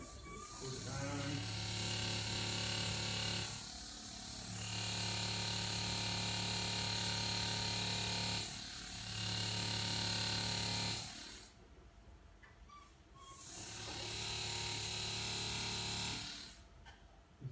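A jeweller's handpiece closes a flush setting in a D-shape ring, giving a close, whining mechanical buzz that runs in several bursts separated by short pauses, and someone speaks between them.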